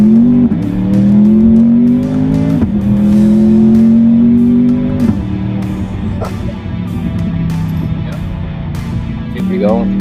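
A 920 wheel horsepower twin-turbo Chevy Corvette C8 pulls hard from a roll at about 30 mph, engine loud and close, rising in pitch through several gears with short shifts between pulls, while someone talks.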